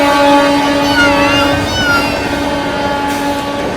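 The New Delhi to MGR Chennai Central Grand Trunk Express, hauled by a WAP-7 electric locomotive, rumbles past loudly and close, a sustained heavy roll with tonal horn-like and wheel harmonics that slowly fade.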